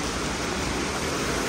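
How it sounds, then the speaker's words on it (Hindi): A small stream flowing beside a trail to a waterfall in Ubud, Bali: steady broadband rushing water, close and constant with no breaks and no voices. "साथ में एक छोटी सी स्ट्रीम बह रही है"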